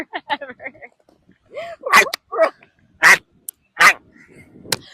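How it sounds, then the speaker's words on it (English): A grandmother's dog that is never quiet, heard in a few loud, sharp barks and yelps close by, mixed with short bursts of people talking. "his grandmother's dog that's never quiet"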